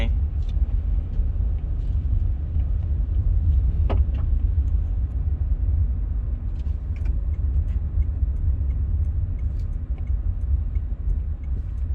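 A Toyota Vigo pickup truck drives steadily, its engine a continuous low rumble with road noise, with small ticking sounds over it and no talking.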